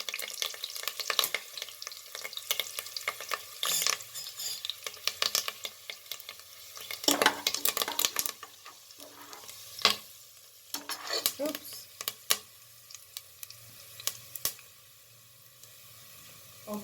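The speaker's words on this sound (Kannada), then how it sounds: "ಗಾರ್ಲಿಕ್ಕು, ಜಿಂಜರ್, ಬೆಳ್ಳುಳ್ಳಿ ಶುಂಠಿ ಹಾಕ್ತಾಯಿದ್ದೀನಿ. ಹಾಗೆ ಚಕ್ಕೆ, ಲವಂಗ, ಏಲಕ್ಕಿ ಇದು ಕೂಡ ಹಾಕ್ತಾಯಿದ್ದೀನಿ." Whole spices, garlic and ginger (cinnamon, cloves, cardamom) sizzle and crackle in a hot pan for tomato rice, with irregular stirring clatters and scrapes throughout and occasional louder spatula knocks against the pan.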